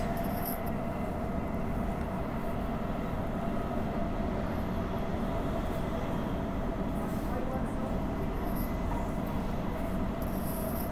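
A Transperth B-series electric train, set 6110, runs along the Joondalup line, giving a steady loud rumble of wheels on rails with cabin hum and occasional faint squeals throughout, heard from inside the carriage, with some talking.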